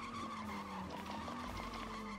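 A car skidding with tires squealing, a sustained screech over engine noise lasting a couple of seconds, loud and close, with no voices.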